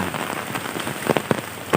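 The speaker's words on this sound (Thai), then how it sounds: "ฝนตกนะครับ บรรยากาศฝนตก" Heavy rain pours steadily onto surfaces in rural Ubon Ratchathani, Thailand, a dense close hiss with a few sharper splashes and drips, no voices.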